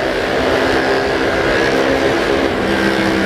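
Loud, continuous engine roar of a noisy motor vehicle moving away on an Indonesian road, heard from a riding motorcyclist's position, a dense droning rumble that holds steady, no speech.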